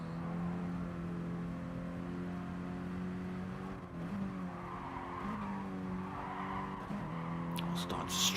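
Mini Cooper race cars circulating on a racing circuit, one car's tyres squealing and skidding through a corner while engine drone holds steady, with a commentator talking over the top.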